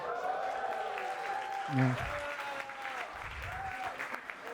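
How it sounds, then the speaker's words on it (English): Audience at a stand-up comedy show clapping and cheering, a crowd burst under a speaker's voice and melodic tones, moderately loud throughout. "I don't know why you all clap"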